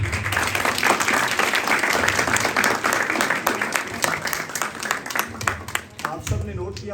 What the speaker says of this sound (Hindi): उनके लिए भी भरपूर तालियां